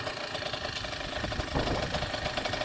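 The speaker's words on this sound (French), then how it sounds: "Donc ce scooter c'est un Neos 2 temps" A Yamaha Neos two-stroke scooter engine idles steadily nearby, a continuous buzzing putter with slight knocking and rising a little in level partway through.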